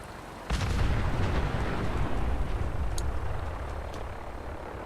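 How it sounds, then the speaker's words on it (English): Gunfire in Fallout 4 booms over a loud, steady rumbling background, with a couple of brief sharper cracks standing out partway through. "She just threw in a couple parting shots."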